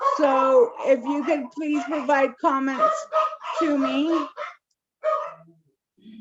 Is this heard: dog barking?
yes